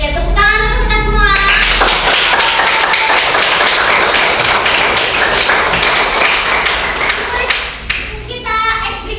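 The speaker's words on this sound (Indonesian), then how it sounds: "Oke, tepuk tangan untuk kita semua." A fifth-grade classroom of children claps together for everyone, loud close rapid hand claps packed into a sustained burst, with the teacher's voice speaking briefly before and after.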